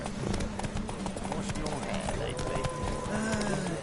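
Roach the horse gallops in a race in The Witcher 3, a rapid, steady clip-clop of hooves close by, with game sounds and voices talking over it.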